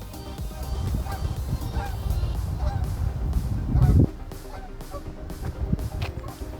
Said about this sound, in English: Geese are slowly making their way back